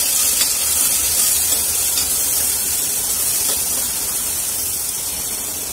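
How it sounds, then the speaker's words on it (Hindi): Ginger-garlic paste sizzles with onions frying in a pan for a mutton dish. A loud, steady hiss holds without a break, and no one speaks. "अब अदरक लहसुन का पेस्ट डालेंगे। इसको 2 मिनट के लिए भूनेंगे।"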